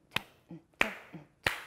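Three crisp finger snaps keep a steady beat about two-thirds of a second apart, close and clear, with soft low tones from a voice or instrument between them.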